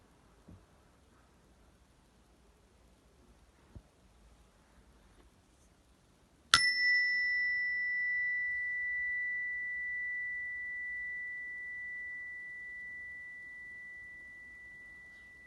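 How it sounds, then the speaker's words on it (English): A single chime struck once after a quiet start, ringing out clearly with a long, bright sustained tone that slowly fades, over faint background hiss and soft ambient noise. "listen carefully to hear the sound of the chime"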